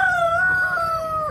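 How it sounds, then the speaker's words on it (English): A single rooster crows nearby, a clear drawn-out call lasting over a second with no talking. "half of me wants to get rid of that rooster right there"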